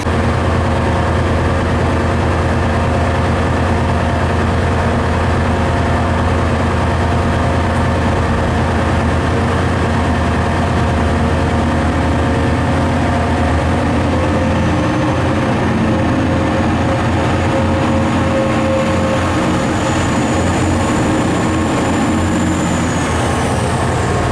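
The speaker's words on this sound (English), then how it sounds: "So I shall film this train leaving" A train leaves York station with a loud, continuous low rumble of engine and wheels close by, joined near the end by a thin rising whine.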